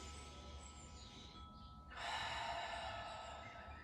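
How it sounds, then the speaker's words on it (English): Slow, deep breathing during a chair yoga session, a long soft inhale followed by a fuller, louder breathy exhale, close and alone. "Just 2 more breaths here."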